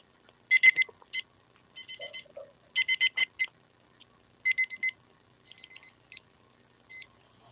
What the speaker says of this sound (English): Somebody's got like a timer going off.